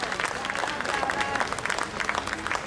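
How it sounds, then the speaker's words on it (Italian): Audience applause at a village threshing festival after a music group performs fills the whole stretch, a dense, steady clapping from many hands with no pauses. "Facciamo ancora un grosso applauso"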